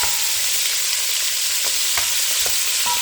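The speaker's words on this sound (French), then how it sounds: "J'ai mis la viande dans ma casserole." A constant close sizzle of meat frying in hot sunflower oil inside a saucepan, with a few small pops and stirring clicks and no voices.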